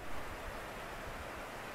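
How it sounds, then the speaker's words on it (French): Two small waterfalls pouring into a pool near Whitaker Lake, a steady dense rush of falling water with no breaks, close and fairly loud, no voices. "il y a deux cascades qui coulent"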